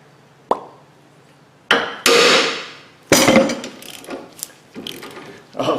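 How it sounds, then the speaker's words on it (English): A hammer strikes a ball joint on a Jeep WJ, landing several sharp, loud metallic blows at uneven intervals, close by, with short ringing decays between hits. "we're going to give a tap of the hammer"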